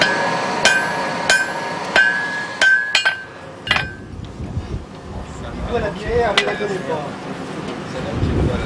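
Hammer blows fall on an iron bloom at the anvil to compact the metal, first as sharp ringing strikes and then as heavier, duller thuds, close and loud, with a voice speaking between them.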